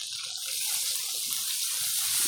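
Water gushes steadily into a cooking pot over a wood fire. The pour is close, loud and continuous, with a full, splashing rush.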